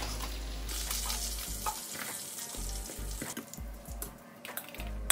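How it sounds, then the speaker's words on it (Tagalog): Garlic frying in hot oil in a single pot for honey garlic ribs, giving a continuous close sizzle with occasional stirring scrapes and clinks, heard without talking. "Ilagay na natin ang ating bawang sa mainit na mantika."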